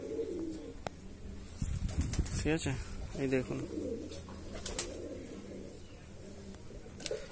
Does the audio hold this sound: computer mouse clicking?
no